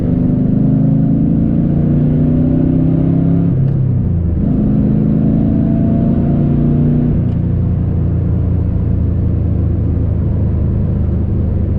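Car engine fitted with a newly installed Terminator X fuel injection system revs hard through a partial-throttle pull, rising and falling in pitch with a gear change near four seconds, loud and close with steady low rumble throughout.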